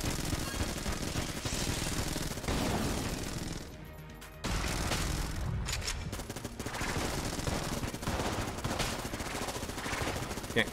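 Rapid, sustained Vulcan Cannon fire in the game Enter the Gungeon, a loud dense fusillade that drops out briefly near the middle before resuming at full intensity.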